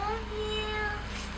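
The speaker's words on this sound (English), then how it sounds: "the cats sound like they're fretting" A few faint cat meows, plaintive and drawn out, rise over a steady low hum in a quiet indoor space.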